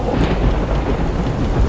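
Loud, continuous rumble of thunder rolling through a storm with rain, filling the whole stretch without a break.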